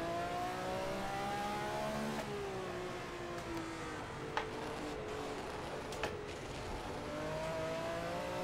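A Ferrari 312 race car in the Assetto Corsa racing game revs and shifts around the Zandvoort circuit, its engine note rising and falling steadily with a couple of sharp clicks, heard at moderate level.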